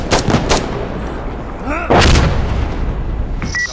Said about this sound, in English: Slowest artillery ever